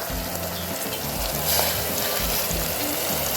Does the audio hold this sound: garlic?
yes